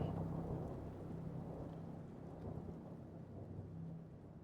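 Heavy rain pours steadily with low rumbling thunder in the game HollowBody, beating on the cracked windshield of a crashed hover car; the storm stays loud and continuous throughout with no talking.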